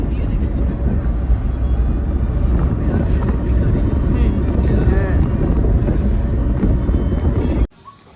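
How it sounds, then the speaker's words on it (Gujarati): Strong, cool wind roars and buffets steadily around travellers seated outdoors on a journey, a loud continuous rush that cuts off abruptly at the end. "મસ્ત જો ઠંડો પવન આવે છે."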